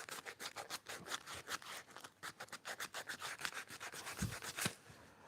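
Rapid back-and-forth hand sanding scrapes across a wooden hand plane tote, close and rhythmic strokes repeating quickly with one brief thump near the end.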